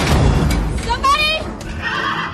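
In a scene from the horror film The Ring, a horse lets out a rising, wavering whinny over a dense, murky background, with voices talking around it.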